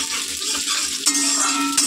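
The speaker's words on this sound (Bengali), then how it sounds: "একবারে ফোড়ন দিয়ে দেবো।" Spice tempering for dal spits and sizzles loudly in hot oil, a continuous crackling hiss with a sharper burst partway through and no voices.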